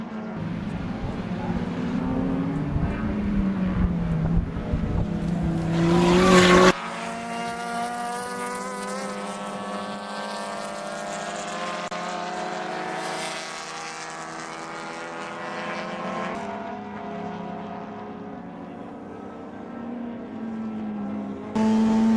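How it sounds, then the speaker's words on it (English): A Mazda RX-8 and other touring race cars roar and whine at Thunderhill Raceway, rising and falling in pitch as cars pass, with a commentator's voice faintly under the noise. "aboard McCulligan's Mazda RX-8"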